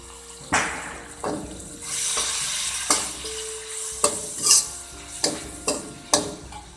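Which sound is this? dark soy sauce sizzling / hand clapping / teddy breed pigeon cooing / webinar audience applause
dark soy sauce sizzling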